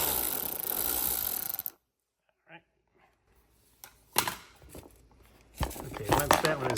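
A T25 Torx bolt is loosened on a Porsche radiator, with brief ratcheting clicks and metallic tool sounds coming in short bursts between pauses, mixed with a person talking.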